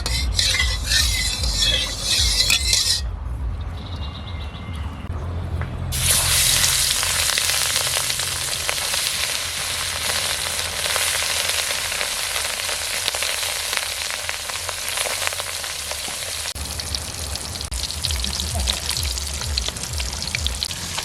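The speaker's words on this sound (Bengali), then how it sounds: "মাছ ভাজার জন্য সরিষার তেল দিয়ে দেবো।" Katla fish frying in mustard oil in a pan makes a loud, dense, continuous crackling sizzle, with a brief quieter dip near the start before the sizzle returns strong.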